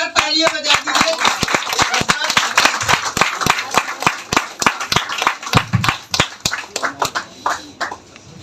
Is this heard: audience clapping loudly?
yes